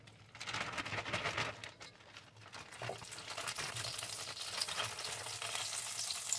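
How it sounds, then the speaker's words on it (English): Steady loud sizzling of cabbage leaves frying in a hot pan, a continuous crackling hiss with occasional stirring, no voices. "This is a sound you always want to hear when you're cooking."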